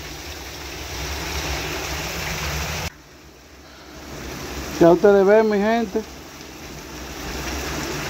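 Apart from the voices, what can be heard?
heavy rain falling in a cemetery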